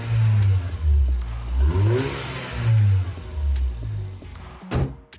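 A Ford Fiesta engine fitted with a new air intake revs up and down repeatedly, rising and falling in pitch several times, loud and close, with a sharp clack near the end.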